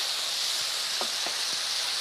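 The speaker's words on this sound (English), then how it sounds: "Now, our chicken, we want to brown this and we want to get it cooked through." Chicken pieces browning in a frying pan give a steady, close sizzle throughout, with a few soft utensil taps or stirs near the middle.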